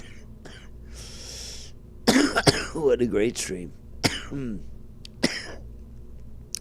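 Several sharp coughs and throat-clearing bursts come in a cluster, close to the mic, with a short spoken phrase after them.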